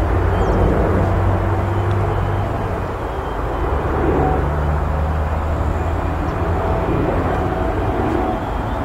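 An aircraft passes overhead as a continuous low engine rumble and drone. It holds steady and fairly loud for the whole stretch and stands alone with no talk.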